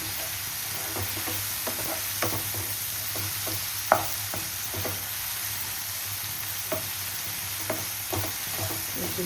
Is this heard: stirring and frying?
yes